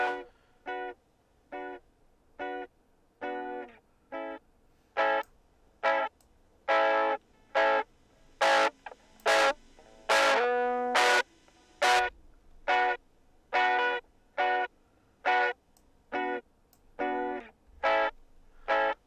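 An electric guitar runs through a distortion effect with the slew turned fully up and a touch of drive added, in Bitwig Studio. Evenly spaced, gated chord stabs repeat steadily for about nineteen seconds, loud and alone.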